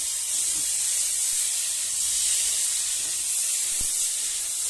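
Steady hot-oil hiss from raw fish frying in a wok as oil is poured in, a continuous bright sizzle running unbroken for several seconds with a faint low knock near the end and no voices.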